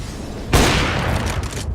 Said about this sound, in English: Throwing a flashbang out.